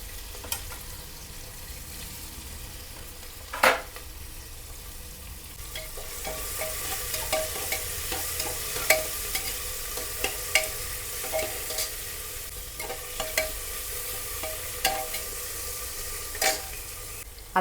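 Onion, tomato and capsicum frying in a pan for paneer pulao, a steady close sizzle throughout with repeated scraping clicks of a spoon stirring, and no talking.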